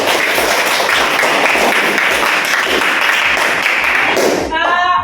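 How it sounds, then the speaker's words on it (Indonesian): Classroom audience applause after a group's presentation during a differentiated-learning lesson, dense clapping throughout that stops abruptly near the end, followed by a brief voice. "Tepuk tangan sekali lagi."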